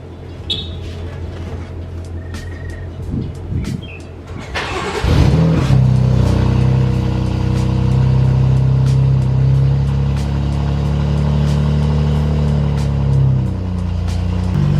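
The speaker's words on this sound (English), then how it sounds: "There's a quick little E85 cold start for the M3" A BMW M3 running on E85 fuel cold-starts with a sharp crank and catch, then revs and settles into a loud, close, uneven high idle. Faint birds are audible beforehand.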